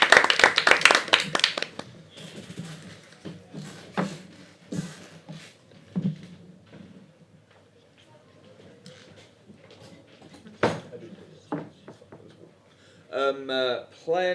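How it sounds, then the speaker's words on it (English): A small group of players at a live Mafia game tournament gives a brief round of clapping for a fellow player, lasting about two seconds, followed by scattered talking and occasional knocks. "A round of applause for player number 6"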